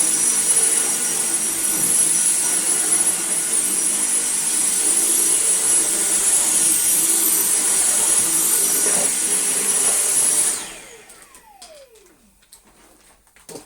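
A refurbished Dyson V6 Absolute cordless vacuum cleaner runs on a rug with a steady high whine and airy roar that holds without pulsing, then switches off and winds down to near silence.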